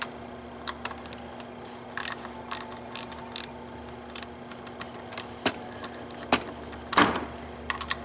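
Hand ratchet on a 10 mm socket cracking loose slightly rusty pulley bolts on a BMW E46 six-cylinder water pump: bursts of close, crisp pawl clicking in short turns with pauses between, plus occasional clanks of tools handled nearby.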